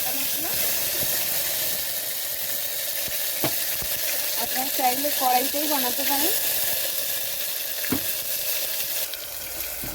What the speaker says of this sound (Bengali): এখানে দিয়ে দিচ্ছি বাটা মশলা